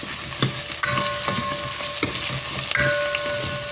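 Radish pieces added to onions frying in a pan for a tongue fish curry, a loud close sizzle with repeated scraping stirs at a steady rhythm and no talk.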